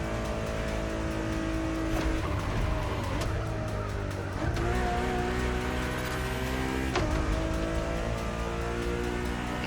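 A Ferrari Enzo supercar drives in The Crew Motorfest, its engine droning steadily with rising and falling revs under a layer of game music, loud and continuous with occasional shifts.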